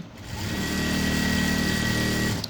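A blouse is being sewn on a sewing machine that hums in one steady, continuous run, close and fairly loud, with no talk over it.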